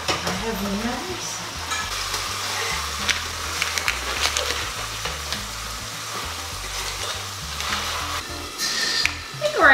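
Steak and fillings for pan con bistec fry in a pan with a steady, close, continuous sizzle and occasional stirring scrapes, over a faint low rhythmic background beat.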